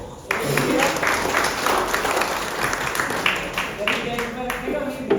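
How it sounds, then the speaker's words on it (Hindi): A burst of applause from a crowd, steady clapping that fills the room, with a voice speaking faintly beneath it. "जबरदस्त तालियां सर के लिए एक बार"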